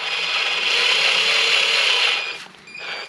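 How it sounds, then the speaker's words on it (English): A drill chuck is twisted tight around a drill bit, a close, loud ratcheting clatter lasting about two seconds, then a few shorter clicks and rubs after a brief pause. "Okay, so it's all chucked up, the drill."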